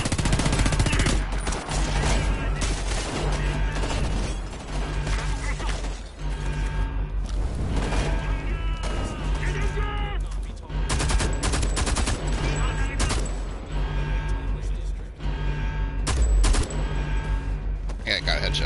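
Repeated bursts of loud automatic gunfire from the Homefront: The Revolution video game, close and heavy, broken by short pauses, with speech heard in places among the shots.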